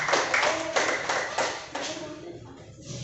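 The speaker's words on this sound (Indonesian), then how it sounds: "Tepuk tangan untuk Airul." Children in a classroom clap for a classmate, a short run of quick, fairly close claps that thins out and fades toward the end, with a voice faintly under it.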